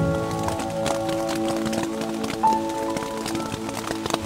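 Rain patters steadily on a fully enclosed camping tarp during a solo night in the rain, a dense, even pattering of drops with a few louder taps, no voices.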